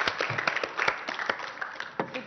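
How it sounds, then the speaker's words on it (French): A studio audience on a French television set applauds in a close, crackling burst of clapping while a voice talks over it. "applaudissez, s'il vous plaît"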